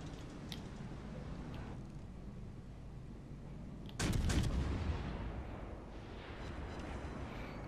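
A volley of naval gunfire from a USS Cleveland cruiser in World of Warships Legends, a heavy burst of booming shots rising over steady game background noise, then fading into a low rumble.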